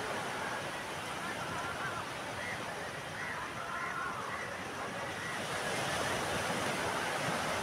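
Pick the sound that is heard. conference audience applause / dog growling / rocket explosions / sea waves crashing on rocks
sea waves crashing on rocks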